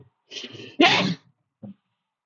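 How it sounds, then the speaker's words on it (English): A single close, loud sneeze: a sharp breathy inhale builds up, then one explosive burst, followed by a short quiet sound a moment later. "I gotta sneeze"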